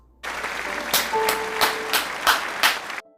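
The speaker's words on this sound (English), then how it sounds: "Shall we also give a round of applause to the directors?" A round of applause from an audience honouring the directors of a Chinese drama, with a dense steady wash of clapping and several louder swells, sustained for about three seconds after a quiet start.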